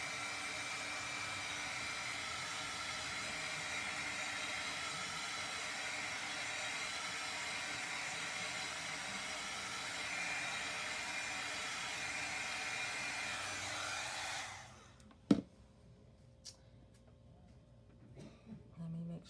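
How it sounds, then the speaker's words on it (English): A small handheld heat dryer drying chalk paste for a Chalk Couture craft project blows with a steady, close whirring hiss for about fourteen seconds, then cuts off abruptly, followed by a sharp click and quiet handling. "take my little dryer, heat dryer here, and dry it up"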